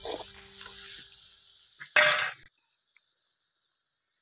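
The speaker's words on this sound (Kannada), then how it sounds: "ಆಲೂಗಡ್ಡೆ ಎಲ್ಲ ಫ್ರೈ ಆಗೈತೆ" Potatoes for aloo fry stirred in a pan, a soft scraping stir followed by a short loud burst of sizzling and clatter, then near silence with a faint clink.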